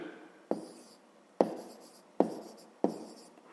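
A fraction being written by hand on paper, heard as four separate scratchy pen strokes, each starting with a sharp tap and fading, spaced roughly a second apart in a quiet room.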